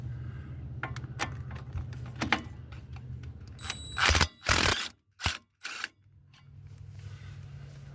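Power screw gun driving against the brake caliper bolts on an 2002 Chevrolet Silverado wheel, with mechanical clicks and ratcheting, then several loud bursts of whirring from the tool close up, separated by short pauses.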